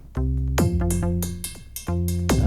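A looping electronic drum pattern, a Euclidean rhythm of 3 hits over 8 steps, with deep booming hits and sharp clicks in an uneven, syncopated rhythm. Loud and close, with no talking.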